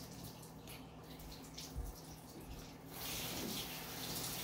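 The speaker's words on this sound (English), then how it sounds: "as she washes her hands" Water runs steadily from a kitchen tap as hands are washed while baking a cake, a continuous close hiss that grows louder and fuller partway through, with no talking.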